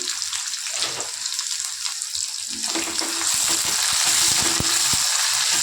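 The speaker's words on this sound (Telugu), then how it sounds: "నేను నువ్వుల నూనెతో పూ పెడుతున్నానండి అందుకనే నురగల్లా వస్తుంది" Garlic, onion and green chilli tempering in sesame oil for a spinach and moong dal dish, a close, steady sizzle that swells louder and fuller midway with a few small clicks of stirring.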